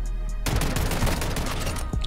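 Warzone Mobile gunfire, a dense close burst of rapid shots that starts suddenly after a quiet moment and continues loudly to the end, with no talk over it.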